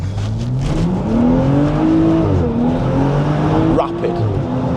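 A BMW M135i is driven hard on a track, its engine note climbing and dipping through the revs. The steady, loud drone sounds as if heard from inside the car, with tire and road noise running beneath.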